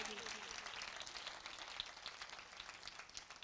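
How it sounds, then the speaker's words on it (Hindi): A church congregation at a Father's Day sermon bursts into applause, a dense wash of clapping that fades slightly over a few seconds, with a voice briefly heard beneath it. "आइए उसी बाप के लिए जोरदार तालियां बजाइए।"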